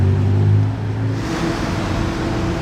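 A McLaren GT fitted with a Novitec exhaust rumbles close by, its deep engine drone fading from a louder burst into a steadier idle-like hum.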